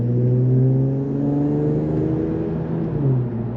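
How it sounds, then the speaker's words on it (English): An Infiniti Q50 Red Sport 400 engine drones and revs at close range with a deep aftermarket exhaust note, muffled as heard from inside the cabin, rising and easing slightly. "a little POV of how the car sounds like in the cabin"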